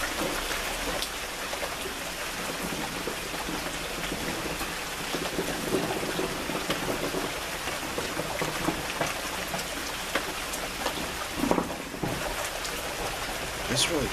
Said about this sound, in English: It's really raining quite strong.